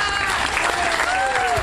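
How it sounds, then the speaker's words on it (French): Applause for Stéphane Enoch fills the room, dense and loud, with steady crowd clapping and no pauses. "on peut l'applaudir"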